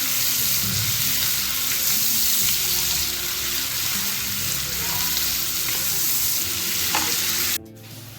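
Onions and green chillies frying in oil, a steady dense sizzle with occasional stirring scrapes throughout, cutting off abruptly near the end.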